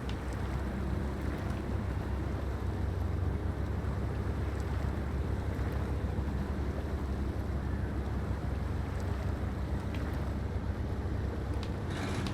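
An M939 truck in SnowRunner grinding through soupy mud, its engine a steady, dense low rumble that stays constant and loud throughout with no talk over it.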